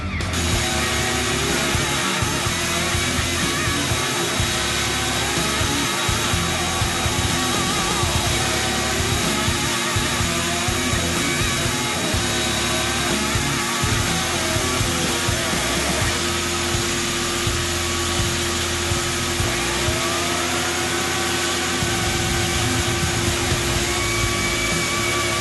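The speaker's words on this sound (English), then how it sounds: "I'm just going to finish out the blade with this belt." A belt grinder runs continuously while finishing a wakizashi blade, a constant loud whirring, abrasive drone that holds steady from start to end without a break.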